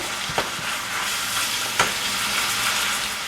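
Ground beef sizzling steadily in a frying pan for tacos, with a few sharp scrapes of a utensil stirring the meat, close and moderately loud, with no talking.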